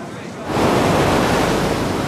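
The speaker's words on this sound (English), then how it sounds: "Most of the class have never seen waves this big." Heavy ocean surf breaking on a beach during Navy SEAL BUD/S training, a steady roaring wash of waves that swells up loudly after a quieter half-second start and holds near and continuous.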